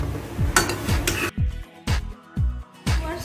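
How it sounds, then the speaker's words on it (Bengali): Chicken and egg are stirred into spicy Malaysian-style Maggi noodles in a sizzling pan, with about six rhythmic, close scraping strokes of a utensil against the metal and a hiss of frying between them. "চিকেন আর ডিমটা আমি মিশিয়ে দিচ্ছি। ভালো করে মিশিয়ে নিচ্ছি।"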